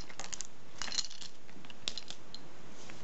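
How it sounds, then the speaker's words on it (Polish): Red scissors snip open a Lego Movie minifigure bag, giving a few sharp plastic crinkles and snips up close over a quiet background, with no voices. "czas by magiczne czerwone nożyczki poszły w ruch"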